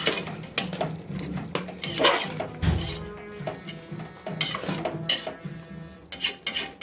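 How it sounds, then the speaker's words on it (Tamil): Spices and salt stirred in a metal pan, with repeated loud scrapes and clanks of a spoon against the pan in a steady, irregular rhythm, close up and with no talking. "நம்ம எல்லா மசாலாவையும் இப்போ மிக்ஸ் பண்ணி விட்டுக்கலாம்"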